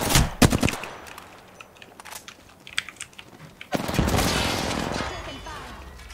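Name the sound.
gunfire in the video game Apex Legends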